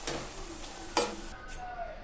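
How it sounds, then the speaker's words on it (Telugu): Gongura (sorrel) leaves frying in oil in a pan, a steady soft sizzle running throughout with a brief louder scrape of stirring near the middle, fairly quiet and with no talk. "గోంగూరలోని వాటర్ మొత్తం పోయేలాగా బాగా వేయించుకోండి."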